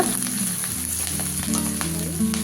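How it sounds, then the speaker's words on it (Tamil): Sliced onions and a few curry leaves sauté in oil for veg fried rice, producing a continuous close sizzle with soft stirring clicks throughout, no voices. "கொஞ்சமாக கருவேப்பிலை அதையும் சேர்த்துட்டு வெங்காயம் நல்லா வதங்கி வரட்டுங்க"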